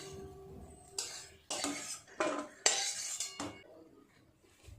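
Cashews and raisins stirred and fried in ghee, a spoon scraping and clinking against the pan in several distinct bursts, close and fairly quiet, with a soft sizzle between strokes and no talk.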